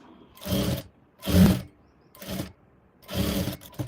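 A sewing machine stitches the front part of a plain blouse in four short bursts, each a whirring run of needle strokes separated by brief pauses.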